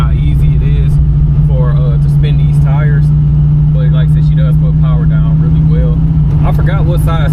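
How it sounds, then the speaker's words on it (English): 1974 Chevrolet Camaro Z28 accelerating and spinning its rear tires, a loud, constant low engine drone heard from inside the car, with someone talking over it throughout. "I'll get on it a little bit more just so you can see how easy it is for to spin these tires"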